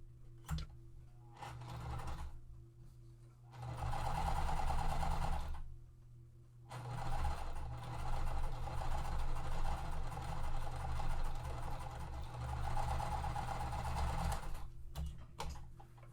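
A sewing machine stitches a quilt block seam in bursts, its fast rhythmic whirring running for a few seconds, pausing, then running continuously for about eight seconds, close and clear with no talk.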